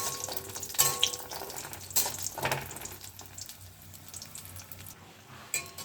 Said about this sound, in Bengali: তেল গরম হয়ে গেছে বড়িগুলো দিয়ে দিলাম বড়িগুলো লাল করে ভেজে নিতে হবে